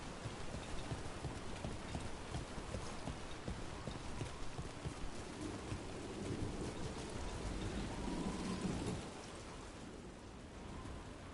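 Steady rain falls in the Dragon Age video game, a dense, even hiss of downpour that runs without a break and drops slightly quieter near the end.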